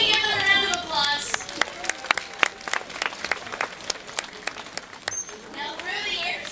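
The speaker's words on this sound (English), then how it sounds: "so can we give them a round of applause?" An audience at an aquarium dolphin show applauds, sharp individual claps building into a scattered round of clapping, with a voice speaking over the start.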